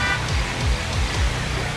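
In the video game GTA V, a taco truck sounds its horn in a few short, rhythmic toots over steady traffic noise.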